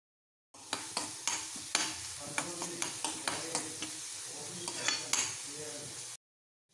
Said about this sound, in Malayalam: സബോള, ഇഞ്ചിയും വെളുത്തുള്ളിയും പച്ചമുളകും എണ്ണയിൽ വഴറ്റിയെടുക്കുന്നു.